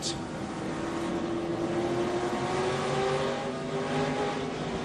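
NASCAR race cars at the 2007 Toyota All Star Showdown, with a steady engine drone rising slowly in pitch as the cars run around the track, continuous and moderately loud under a commentator's voice.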